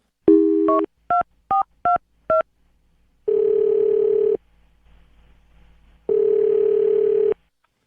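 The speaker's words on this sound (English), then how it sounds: "I'm going to dial her phone number right now" A telephone keypad beeps out a quick run of DTMF tones, five short presses in a row, followed by two long ringback tones separated by a quiet gap, clear and close with no voices.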